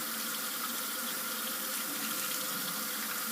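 Hot water runs from a tap into a sink in a steady, close, continuous rush while model train cars are being cleaned.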